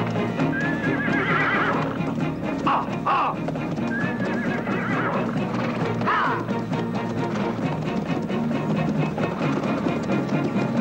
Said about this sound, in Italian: Tutti ai cavalli,